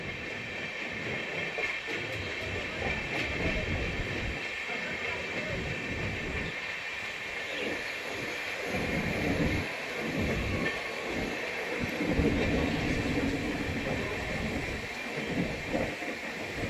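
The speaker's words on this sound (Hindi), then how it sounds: "हावड़ा धनबाद एक्सप्रेस के साथ क्रॉसिंग।" The Howrah–Dhanbad Coalfield Express passes during a crossing, a loud continuous rumble and rhythmic clatter of wheels over rail joints, heard from a moving train, with a steady high whine over the top.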